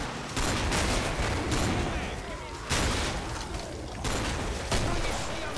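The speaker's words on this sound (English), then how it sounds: "You just carving a fucking path with that shotgun" Rapid shotgun fire in the co-op zombie shooter Killing Floor, dense loud blasts and chaotic combat noise throughout, with several sharp bursts standing out and voices talking over it.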